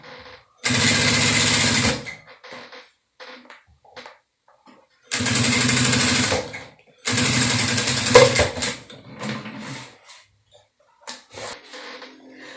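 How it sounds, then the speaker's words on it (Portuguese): A sewing machine stitches a silicone beach bag in three loud, close bursts of rapid mechanical whirring lasting a second or two each, separated by quiet pauses with soft handling clicks and brief speech. "E agora eu vou descer simplesmente, ó, a minha costura até lá ao fundo"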